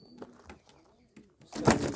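A white-headed female pigeon and other domestic pigeons give a few soft, close coos amid scattered rustling, ending in a louder burst of flapping or shuffling.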